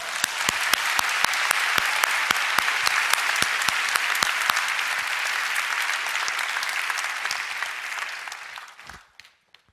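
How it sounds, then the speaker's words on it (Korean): A congregation at a youth prayer meeting breaks into sustained applause, many hands clapping in a dense wash with a few sharp, distinct claps on top, then tapering off and fading out near the end. "박수 한번 칩시다"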